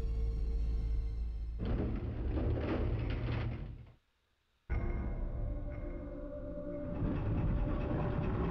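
A small train ride in Resident Evil 2 on PlayStation: loud rumbling rail clatter, a brief silent cut, then the rumble resumes with faint metallic door-like clanks and rising noise toward the end.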